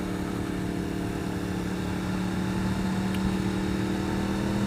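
A 2015 Yamaha R1 motorcycle is ridden, its engine a steady droning hum beneath rushing wind noise, holding an even pitch throughout.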